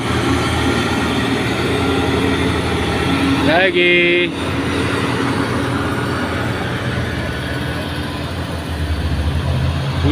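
A truck engine strains up the steep Bukit Kodok climb, a loud continuous low drone with a brief dip and gear-shift whine partway through, then the heavy grinding carries on.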